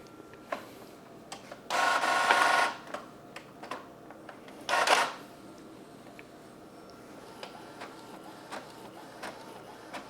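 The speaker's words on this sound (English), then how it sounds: "just quickly press print, and we're going to see how long it takes for the printer to do it." An Epson ET-4760 inkjet printer prints a color document: two loud bursts of whirring print-head passes about three seconds apart, framed by quieter mechanical clicks and ticks of paper feeding, close by and without talk.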